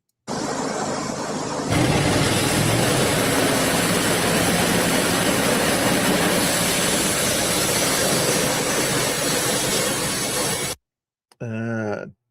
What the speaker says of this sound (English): A diesel engine, I would imagine, on that